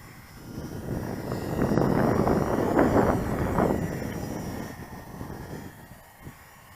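Engine of a Jasco Spotter Bipe model airplane rising under opened throttle, a buzzing propeller drone that swells to a loud peak midway and then fades as the plane flies off.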